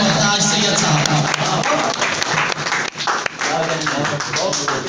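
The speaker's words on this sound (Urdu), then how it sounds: "کھڑے ہو کے تالیاں بجائیں" An audience at an Urdu poetry recital (mushaira) in Ahmedpur Sial applauds, dense continuous clapping across the hall mixed with a voice speaking over it, lasting several seconds.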